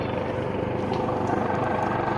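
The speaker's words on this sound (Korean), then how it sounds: "헬기는 갔다가 다시 돌아오는 중이고" A fire rescue helicopter heading back over Dobongsan mountain near Jaunbong peak, its steady rotor drone and engine roar carrying throughout as a continuous mid-distance rumble.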